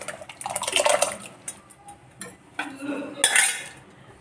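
Cooked moong dal is poured from a vessel into a sweet milk dumpling mixture, with metallic clinks of spoon and pot, soft liquid slops and scraping in irregular close bursts.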